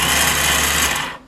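A new car starter motor spinning freely on a bench test gives a steady, close, buzzing whine for about a second before it quickly winds down, with no voices.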